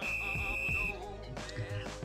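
A referee's whistle signals the start of the first half of a football match between AS Monaco and RC Lens: one sustained, steady blast lasting under a second over a busy musical background.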